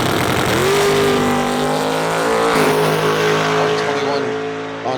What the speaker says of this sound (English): Larry Kerrigan and Tamara Gray coming up to make their pass that they got ripped off for